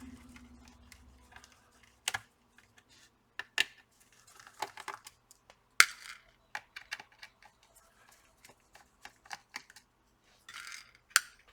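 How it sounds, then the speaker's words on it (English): A small screwdriver works screws out of the back panel of a Dell Inspiron 15 5000 laptop, giving sparse, close, sharp metallic clicks and ticks spread irregularly over quiet gaps. "Let me use a smaller screwdriver."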